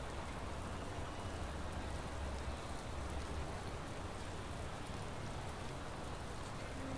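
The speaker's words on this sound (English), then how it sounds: "It's raining. It wasn't supposed to rain." Rain falls during a race in the Motorsport Manager game as a faint, steady hiss of rainfall that holds evenly throughout with no voices.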